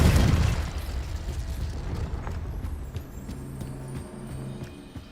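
A Confringo explosion spell in Hogwarts Legacy, a heavy booming burst at the start that decays into a lingering rumble with scattered clatter and faint tonal game sounds.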